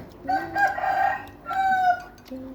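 A rooster crows loudly and close by in two long drawn-out calls, followed by a short cluck from a chicken, with no talk over it.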